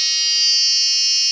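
Steady high-pitched electronic beep from a tester probing a slow-speed CAN communication wire on a Vauxhall Corsa D, a continuous close buzzing tone with no breaks and no talking.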